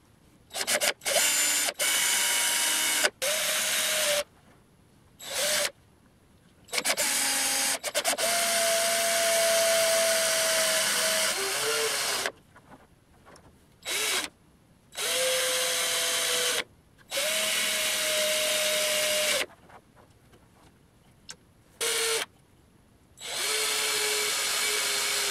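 A power drill bores through a thin woodturned vase that is held by hand, whining in repeated bursts of several seconds each with short pauses between them, close and steady with no speech.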